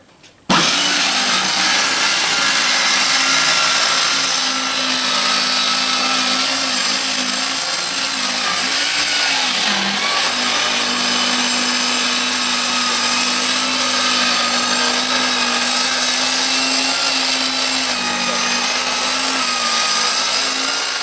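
A power saw cuts a window opening in a tiny house wall, lightly shaving a 2x4, running loud and continuous with a steady motor whine after a sharp start, with no talking.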